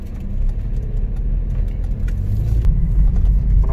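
Mazda MX-5 Miata driving on the road, its engine a steady low rumble with continuous road and cabin noise throughout, no talking.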